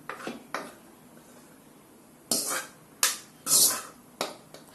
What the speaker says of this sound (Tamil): அந்த வேற ஒரு பாத்திரத்தை நம்ம எடுத்து வச்சுக்கணும்